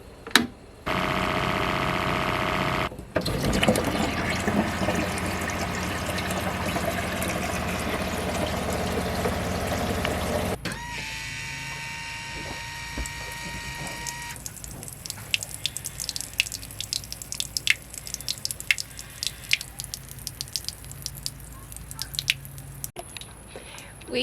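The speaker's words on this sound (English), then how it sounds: "Now we're gonna go below and see if my gray water will drain the water." Gray water from a van's sink drains down into a tank beneath the van, with trickling, dripping water sounds and a brief hissing rush, close by at moderate level and with no talk.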